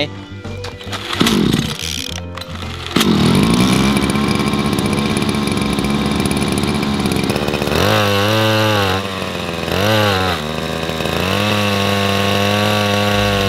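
Small two-stroke brush cutter engine, just repaired after stalling when revved and losing power, sputters through starting pulls, then catches and runs loud and close, rising and falling through several revs.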